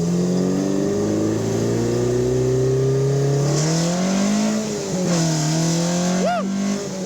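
A track-prepared 1976 Alfa Romeo GTAm race car accelerates hard, its engine note rising steadily through the revs, dipping briefly at a gear change, then climbing again. The sound is loud and close, with no talking over it.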